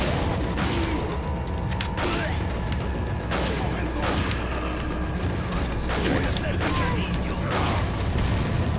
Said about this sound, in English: The hand grenade.